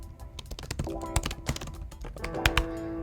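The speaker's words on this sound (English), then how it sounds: "I'm going to type in my information here." Quick typing on a computer keyboard, close and fairly quiet, with uneven bursts of key clicks and a few harder taps.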